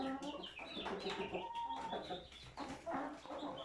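Hens and chicks cluck continuously close by, with a rooster's calls mixed in among the busy, overlapping flock chatter.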